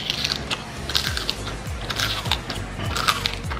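Loud, crisp crunches of dried tuyo fish repeat close up in a steady chewing rhythm, each bite snapping sharply with no voices.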